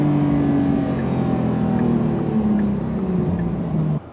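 A 2025 Porsche 911 Carrera S drives under power, its engine note a steady, close drone with sustained tones that sag slightly in pitch before cutting off sharply near the end. Nobody talks.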